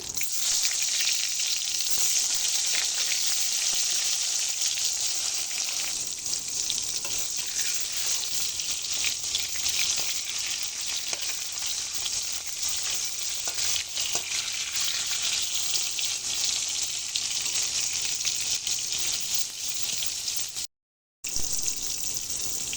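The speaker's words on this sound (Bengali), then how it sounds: "এই তেলের মধ্যে আমি বেগুনগুলো ভেজে নেব।" Eggplant pieces fry in hot oil left from frying hilsa fish, a dense, steady sizzle that runs unbroken and close up, apart from a brief drop-out near the end.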